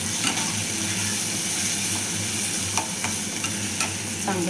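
Onion, tomato, red chili powder and turmeric masala sautéing in a pan, a continuous dense sizzle with occasional spatula scrapes and taps, close and steady without talk.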